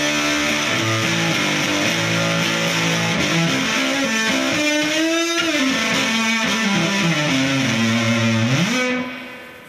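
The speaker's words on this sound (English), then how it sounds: "I've got a just a regular, ordinary Boss Heavy Metal 2 here." Boss Heavy Metal HM-2 distortion pedal drives an electric guitar through a loud, continuous saturated riff with sliding bends and sustained notes, played alone for nearly ten seconds before cutting off.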